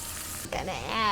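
Butter and fresh lemon juice hit a hot pan while chicken cooks, a short burst of soft sizzling hiss that breaks into a brighter, bubbling spit as the liquid lands.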